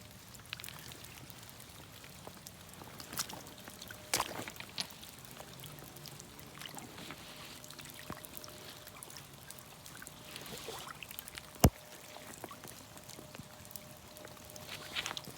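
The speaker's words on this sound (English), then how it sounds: "we're just at some random creek that runs kind of through the outskirts of town." A small creek on the outskirts of town trickles and burbles softly and steadily in the rain, faint and continuous, with occasional sharp knocks and taps.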